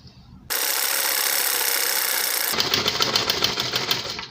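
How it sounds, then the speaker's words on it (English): A sewing machine starts abruptly and stitches a blouse seam in a loud, fast continuous whir, shifting halfway through to a sharper rhythmic rattling pulse. "I'm going to start sewing from down here all the way up."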